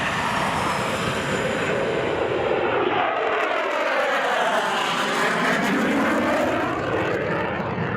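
Airplane flying low on approach to land at St. Bart's Airport in the Caribbean: a loud, close engine roar sweeps past overhead with a clear pitch shift, then a steady rush, with no voices.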